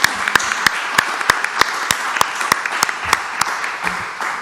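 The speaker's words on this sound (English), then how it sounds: "Another round of applause, please." A conference session audience claps together, a dense burst of many hands with sharp individual claps standing out, sustained at moderate loudness indoors.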